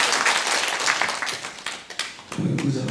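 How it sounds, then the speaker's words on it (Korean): Applause from the audience at a Buddhist monk's book concert after a tenor's performance, a crowd clapping steadily then thinning, with a voice coming in over the tail. "다시 한번 큰 박수"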